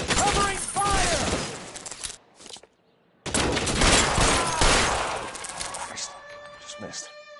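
Heavy gunfire in L.A. Noire, dense overlapping shots and bursts from several guns, a brief pause, then another sustained volley; shouted voices are heard amid the shooting.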